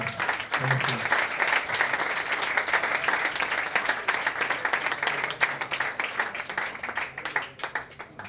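Warm audience applause for a musician at a jazz club, dense steady clapping filling the room for several seconds and tapering slightly toward the end.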